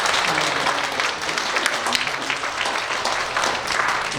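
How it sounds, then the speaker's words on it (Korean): A church congregation claps during a Sunday service for two people who have just made vows, a sustained, fairly loud round of applause with scattered sharp claps and faint voices beneath. "우리 서약하신 두 분께 큰 박수를 올려주세요."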